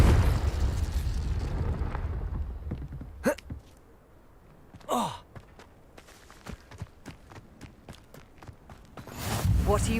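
Confringo blasting curse in the Hogwarts Legacy video game, a rumbling explosion fading out at the start, then a few sharp magical bursts and scattered impacts, with a heavy blast returning at the end.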